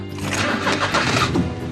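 A car engine cranks and sputters in a failed start, ending in a stall, a rough close churning sound lasting under two seconds with no talk.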